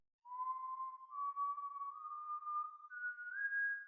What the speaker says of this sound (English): Is that whistling?